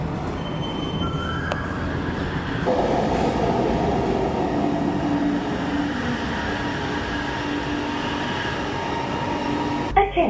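A metro train in Kuala Lumpur, riding one stop from Chinatown to KL Sentral, rumbles steadily from inside the carriage. Wheels hum, and sustained squealing tones rise and shift. A brief clatter comes right at the end.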